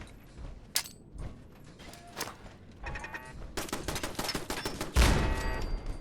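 Enemy gunfire in the game Fallout 4: scattered single shots at first, then dense rapid bursts of automatic fire that grow louder and heavier toward the end, with no talking.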